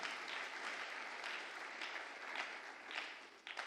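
A church congregation applauds continuously, a dense, moderately distant clapping with rhythmic swells, as if clapping in time, and no clear speech.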